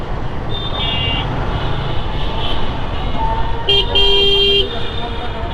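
Busy road traffic on Dhanmondi road in Dhaka on Eid-ul-Adha day, with a steady roar of passing vehicles. Several car horns toot over it, including a longer clear honk near the end.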